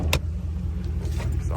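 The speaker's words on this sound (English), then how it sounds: "So I got the truck running right now for a reason." A 4th gen Ram pickup truck engine idles with a low, steady, quiet rumble, and a brief metallic jingle is heard near the start.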